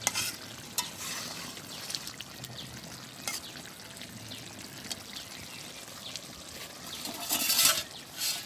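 Spice paste of cinnamon and black pepper stirred into a pangas fish bhuna in a pan, a quiet steady scraping and soft sizzle with a few sharper clinks, growing briefly louder near the end.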